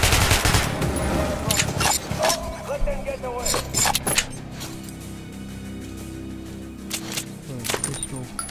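Repeated bursts of gunfire from Metro Last Light, close and loud, scattered in clusters through a noisy stretch with mechanical clatter and game voices underneath.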